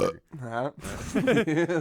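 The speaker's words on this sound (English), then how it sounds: "I think I have to burp or I'm going to pass out." A loud, drawn-out burp with a strong harmonic voiced quality rises briefly alone, then a voice talks or groans right after it, close to the microphone.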